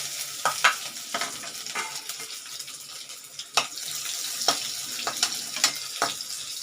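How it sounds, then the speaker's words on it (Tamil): Chopped garlic and cumin frying in oil for bitter gourd masala: a low continuous sizzle broken by several sharp spatula scrapes and taps against the pan, close and clear. "இந்த பத்து பல் பூண்டு கட் பண்ணி வச்சுருக்கேங்க அதையும் போட்டுக்கலாம்"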